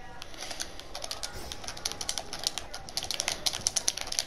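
Clicky game controller buttons pressed rapidly during an online trio match, a dense stream of sharp, close tapping clicks that grows busier and louder toward the end.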